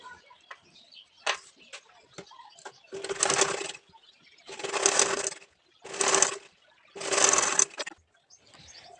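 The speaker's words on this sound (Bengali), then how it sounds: "সেমভাবে এই পাশের অংশটি আমাকে সেলাই করে নিতে হবে।" A sewing machine stitches the side seam of a baby frock in four loud, close bursts of rapid whirring. Faint taps and handling clicks fill the gaps between bursts.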